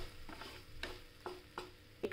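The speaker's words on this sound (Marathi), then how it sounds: "कांदा चांगला तेलात परतून घ्यायचा" Onion frying in oil in a pan while being stirred with a spoon for an instant rava dosa, giving a low steady sizzle broken by a few distinct scraping strokes, close and alone.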